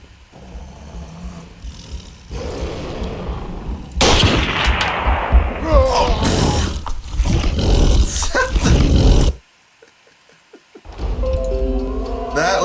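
Loud gunshots fired at a creature in the dinosaur-hunting game Carnivores, with a cluster of booming shots and a growling roar over rumbling game ambience, then a brief silence before the noise returns.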